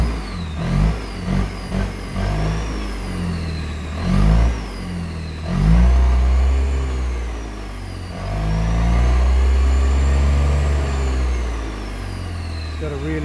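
A Suzuki Burgman 650 scooter accelerates and revs, its engine rising in a whining pitch through several surges, loud and close, with a rumbling low drone underneath.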